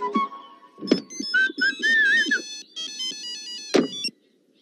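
Several telephones ring at once in a scene from a Telugu romantic comedy film, their warbling electronic tones overlapping with brief noisy bursts before cutting off abruptly.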